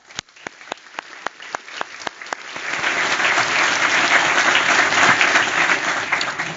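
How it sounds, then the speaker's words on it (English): Applause for soon-to-graduate MBAs at an executive MBA graduation recognition ceremony starts with a few loud, separate claps and builds into a full, sustained round of crowd clapping. "How about a round of applause for soon-to-graduate MBAs?"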